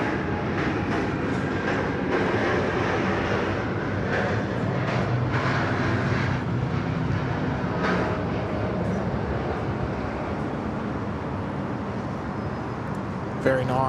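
A Japan Airlines Boeing 787 departs Sydney Airport with a broad, steady jet roar that fills the whole stretch at a constant level, while people talk faintly underneath.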